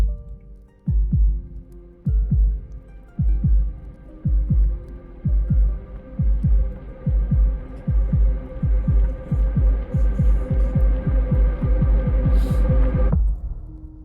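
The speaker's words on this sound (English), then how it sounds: "I couldn't find my other heartbeat sound, so hope you like that one" A heartbeat sound effect throbs in heavy, evenly spaced double thumps over a steady low hum, loud and close, then stops abruptly near the end.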